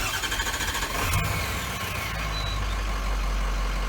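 A Ford 6.0 diesel truck engine with a bad injector cranks and starts, then runs with a steady low rumble and a rough, uneven beat, heard up close.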